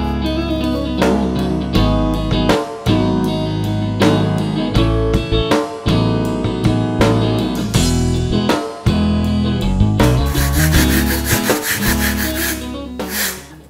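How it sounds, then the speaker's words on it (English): A rasp file and sandpaper work a wooden helicopter-car model, loud close rhythmic rubbing strokes in quick repeated bursts, turning to a brighter hissing scrape near the end. "I'm going to use the rasping file and some sandpaper to get that nice and smooth and get just the shape I want"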